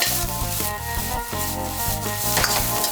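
Garlic pork fried rice sizzles hard in a hot pan while being stirred and tossed, giving a steady loud frying hiss with scraping and clinking against the metal.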